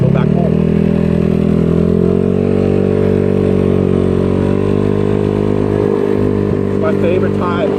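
A GY6 scooter engine drones steadily while riding, loud and close, its buzzing tone rising slightly and holding with wind and road rumble over nearly eight seconds.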